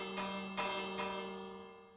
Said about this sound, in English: This is an emergency alarm. So if we flip it, it'll flash these, it'll ring these bells, and also flash the lights in all the rooms.